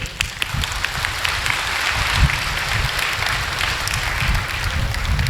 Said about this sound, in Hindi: थोड़ी ताली बजाओ।